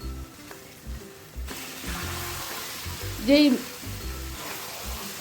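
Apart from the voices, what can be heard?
marinated chicken stirred and frying in spice masala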